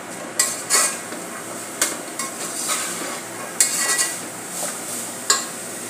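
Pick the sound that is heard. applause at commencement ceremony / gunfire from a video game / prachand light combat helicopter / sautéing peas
sautéing peas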